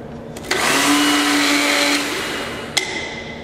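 A Silent Blender whirs loudly for about two seconds after a click, then drops to a quieter hum, followed by another sharp click.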